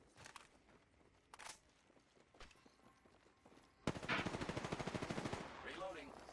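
Enemy gunfire in an Apex Legends match: a few scattered distant shots and thuds, then a loud rapid automatic burst of evenly spaced rounds that fades into trailing echoes.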